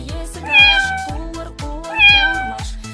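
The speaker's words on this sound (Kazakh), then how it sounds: "Мысық." A cat meows twice, clear and close, each call a drawn-out rising then falling cry over a soft rhythmic musical backing.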